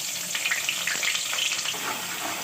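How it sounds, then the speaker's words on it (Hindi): Sliced onions frying in hot oil with cinnamon stick, black cardamom, cloves and peppercorns, giving a dense, continuous close-up sizzle with soft crackles and light stirring throughout. "और अब हमने प्याज को फ्राई करना है इन मसालों के साथ।"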